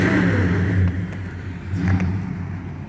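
A Honda motorcycle engine running while riding, a steady mid-pitched drone that swells as the throttle opens, fairly close and loud, with no talk over it.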